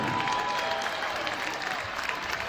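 Crowd applause fills a high school gym for the varsity cheer squad at a boys basketball game, a steady, dense wash of clapping that holds at even loudness throughout.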